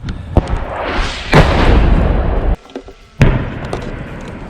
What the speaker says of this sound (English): SPGs are self-propelled guns.